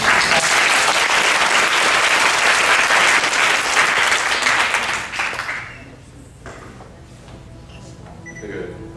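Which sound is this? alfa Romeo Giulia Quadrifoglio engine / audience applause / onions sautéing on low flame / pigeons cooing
audience applause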